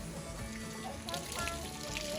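Water running steadily from a hose or tap while a horse is rinsed during a bath on a hot, humid day in Tennessee, a continuous splashing hiss with faint background activity.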